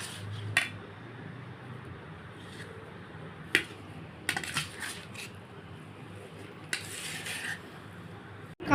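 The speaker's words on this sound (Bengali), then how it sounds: "আমি এমনি দেখিয়ে দিচ্ছি একটু খুন্তি দিয়ে মাখানোটা" A metal spatula scrapes and clinks against a bowl while mixing mashed pea dal, giving scattered sharp metallic taps and clicks over a quiet background, close and alone without speech.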